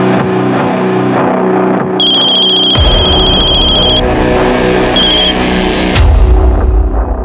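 A synthetic telephone ring chirps in two short bursts over loud, busy dramatic music with heavy booming bass.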